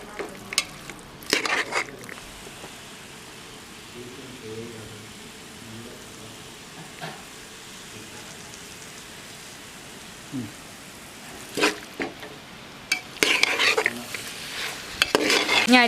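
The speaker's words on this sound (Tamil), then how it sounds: "இதெல்லாம் சேர்த்து நல்லா மிக்ஸ் பண்ணிக்கலாம்." Garam masala and spices are stirred in a pan for vegetable biryani, with a low background sizzle broken by scraping bursts of the spoon. The bursts come early and cluster louder toward the end.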